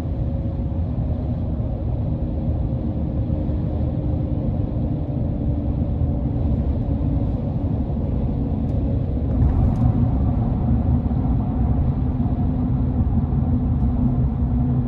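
Cabin of a 2021 GMC Sierra 1500 AT4 pickup driving on off-road tires, a steady low road rumble and engine drone that stays even and muted throughout, with no talking.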